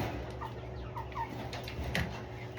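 A sick, stressed chicken makes a few short chirping clucks, faint and intermittent over a steady low background hum.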